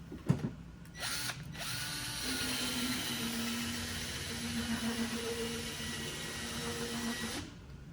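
Power drill spinning a brush in reverse to polish wax on skis, starting with a couple of short bursts then a steady whirring run of several seconds at moderate volume, no talking.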